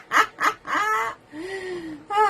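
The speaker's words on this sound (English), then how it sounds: "Ah, you silly bird." A pet bird calls indoors with two short squawks, a longer warbling cry and a drawn-out whistle-like note, then a final squawk, loud and close with no talk over it.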